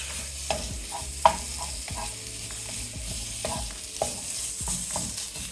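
Shallots sizzle in red curry paste in a pan, a steady close frying crackle broken by several stirring scrapes and one sharp knock of a utensil.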